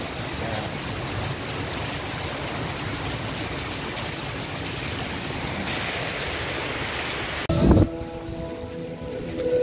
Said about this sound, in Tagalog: pero ito umuulan pa rin, pero hindi na siya masyado malakas